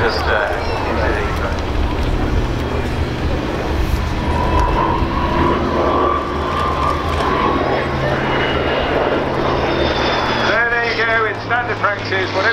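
A Hawker Sea Fury piston fighter flies a display at a naval air station air day, its engine a steady roaring drone with a rising and falling tone, heard over crowd noise and a public address voice.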